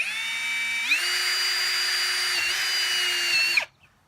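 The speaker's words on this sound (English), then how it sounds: "Now I'm just going to drill a hole right through the tube." A power drill whines steadily close by, jumps up in pitch as it speeds up, runs on through a plastic tube, then cuts off abruptly.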